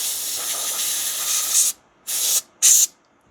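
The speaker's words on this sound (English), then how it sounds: "So I get the air can on the edge of the chips. Spray it along the edge." A can of compressed air sprays along the edges of chips on a washed computer mainboard: one long hissing blast followed by two short bursts, close and loud.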